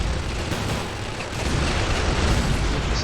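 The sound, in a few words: turret firing explosions in Ork video game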